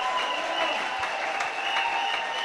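A church congregation applauding at a Sunday service in Kananga, steady dense clapping throughout without pauses, fairly even in level and moderately close, with no clear voices above it.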